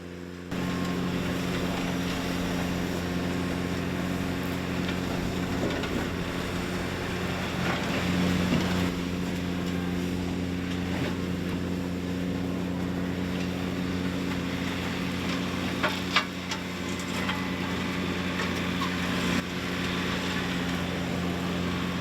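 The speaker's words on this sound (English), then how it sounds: "I may just leave some of it for you to enjoy the noise of the engines" Engines of a brush mulcher and a Ventrac rotary cutter clearing trees and brush, a loud, continuous droning hum held steady for over twenty seconds with faint crunches and knocks over it and no talk.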